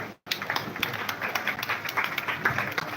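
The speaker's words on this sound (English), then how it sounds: "Just clap for him." A congregation at a live-streamed church service claps together after a memorial announcement, brisk overlapping applause that begins after a brief silent gap and continues steadily.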